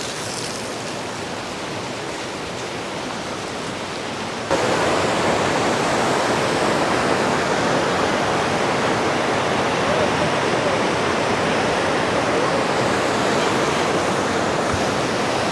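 Clear mountain stream water rushes steadily along the Kedarnath trekking path from Gaurikund, a loud, continuous broadband roar that grows fuller partway through.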